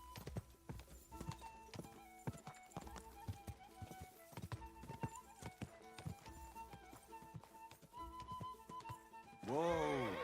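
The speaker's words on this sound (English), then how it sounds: "Does this horse never need a rest?" A ridden horse's hooves clip-clop in a steady, lively rhythm at close range over soft background music, ending in a loud whinny.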